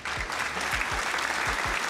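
A small group applauds briefly at a One Piece card game opening session, a steady patter of handclaps at moderate distance with a few louder individual claps.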